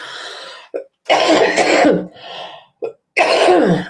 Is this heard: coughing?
yes